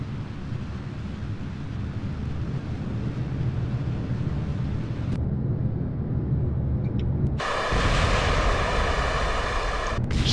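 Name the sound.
rocket engine thrust in video game Kerbal Space Program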